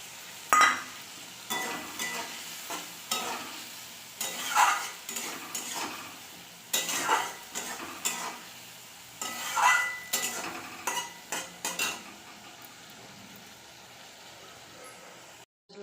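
A spoon stirs and scrapes turmeric and Kashmiri chili paste sautéing in a pan for a Bengali hilsa curry, with irregular clinks and soft sizzle nearby.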